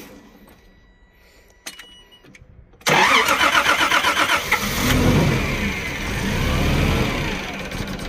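A car engine with a faulty MAP sensor cranks after a few clicks, catches and starts up close and loud, then runs rough, its idle surging up and down unevenly.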